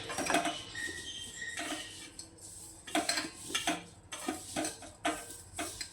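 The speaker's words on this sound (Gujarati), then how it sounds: "હવે આપણે જે આ હવેજ વધ્યો છે એમાં આપણે એને રગદોળી દઈશું." Small pieces of raw mango are tossed and stirred into leftover pickle spice mix in a metal dish, a steady clatter and scrape of utensil against the dish, close and alone.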